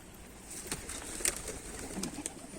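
An Arab post (homing) pigeon coos softly in a few short low calls, with light background noise and no talk.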